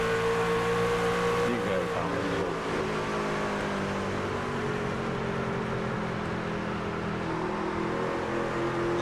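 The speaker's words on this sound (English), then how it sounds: "Trucks sound like they're going so slow right now." Racing trucks roaring around the WWT Gateway oval, a steady droning engine pack with sustained high whine and slight pitch shifts as they pass, loud and continuous with commentators talking over it.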